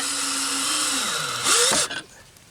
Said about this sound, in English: Get your screw about halfway in, then double check where you're at.